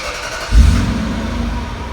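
A 2005 Lexus SC430's 4.3-liter V8 engine fires up with a deep, smooth rumble and holds a steady, close idle.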